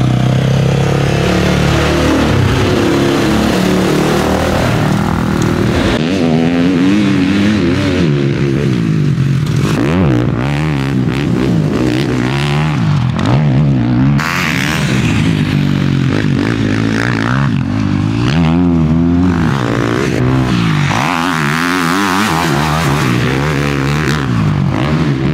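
Motocross motorcycle ridden on the sandy Lommel MX track, engine droning and revving continuously for the full length, rising and falling as the rider works through the course, loud and close with no talk.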